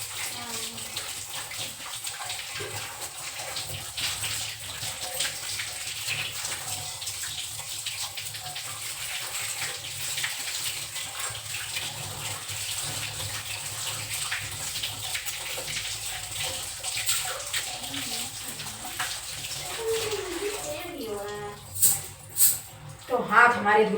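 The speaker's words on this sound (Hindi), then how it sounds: "तो हाथ हमारे धुल गए" Tap water runs into a sink as hands are washed in a home kitchen, a steady close stream that grows splashier near the end, with a voice speaking over it at times.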